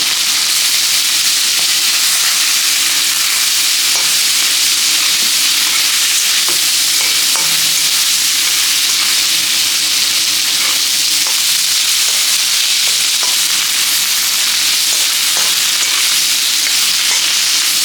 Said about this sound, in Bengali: তেল গরম হয়ে গেছে, আগে লইটা মাছটা ভেজে নিই।